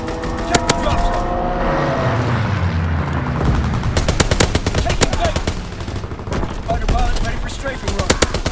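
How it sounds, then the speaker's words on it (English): Strafing-run gunfire in Call of Duty: WWII, a domination match on the Shipment 1944 map: loud, dense bursts of rapid automatic fire rattle almost continuously, with sharp cracks layered over a heavy low rumble and game voices mixed in. "Strafing run inbound."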